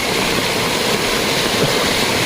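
A rising stream rushing and splashing over stones, a loud, continuous close-up roar of turbulent water with no break.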